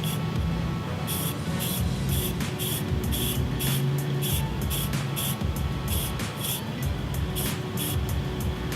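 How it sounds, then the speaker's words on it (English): A spray gun painting a Genesis Coupe steering wheel hisses in a steady run of short, rhythmic bursts, close and loud, over a constant background hum. "I've got the piece set up to spray, so I'm just gonna go ahead and get started painting this thing"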